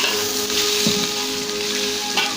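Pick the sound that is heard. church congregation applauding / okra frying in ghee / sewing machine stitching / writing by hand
okra frying in ghee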